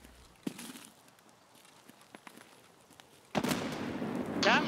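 A grenade blast in a first-person shooter firefight on a Customs map, a sudden loud broadband burst near the end of the clip with a rumbling tail, after a stretch of quiet ambient game sound with faint thuds and footsteps.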